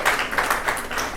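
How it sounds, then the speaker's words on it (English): Clapping from a comedy club audience at a stand-up show, a brief burst of applause rising and falling over about a second, fairly close and dense with no voices over it. "Round of applause. Round of applause."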